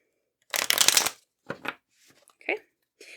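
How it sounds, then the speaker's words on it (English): Lenormand cards riffled and shuffled by hand at a reading desk: one long close riffle, then several shorter shuffling bursts separated by brief pauses, loud and alone. "I'm going to shuffle Lenormand because we will use it again."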